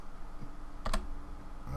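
Keys are pressed on a computer keyboard with a couple of quick, close clicks over a steady background hum, with no talk.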